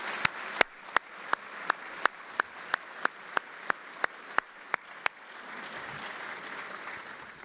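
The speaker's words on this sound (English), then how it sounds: "please join me in another round of applause for our special recipients" A slow, isolated clap repeats about fifteen times at a steady beat, close and sharp, then gives way to a soft spread of scattered applause from a defense forum audience.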